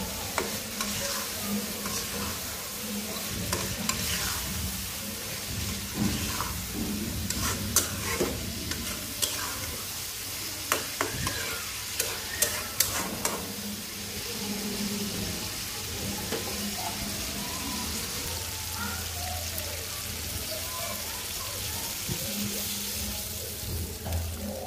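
A spice mixture is stir-fried in oil until the oil separates, for fish bhuna made with shing fish. A steady close sizzle runs throughout, broken by repeated scraping and knocking of a spatula against the pan, with no talking.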